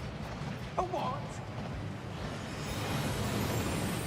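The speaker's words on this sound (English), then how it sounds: "That waterfall washes away all enchantments." A waterfall in the Gringotts vaults in the game Hogwarts Legacy gives a steady broadband rush of falling water that swells louder partway through, with a brief spoken question near the start.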